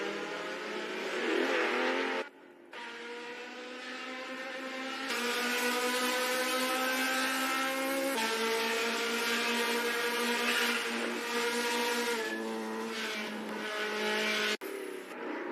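Simulated race cars in the NZ SuperLap virtual racing game, a loud sustained engine whine with rising and shifting harmonic pitch through gear changes, a brief drop near two seconds, continuous for the full stretch with no talk.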